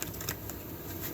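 Tarot cards are shuffled softly and continuously, a quiet riffling patter with a few slightly sharper flicks over a steady low background hiss.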